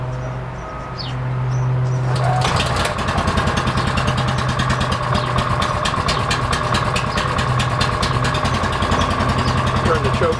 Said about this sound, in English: Turn the choke off, turn the engine up a little bit.